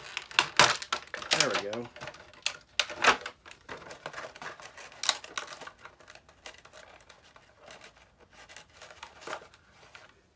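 A Black Series Imperial Royal Guard action figure is cut free from its plastic packaging: sharp crinkles, snips and crackling tears come in close irregular bursts, loudest early, with someone briefly speaking.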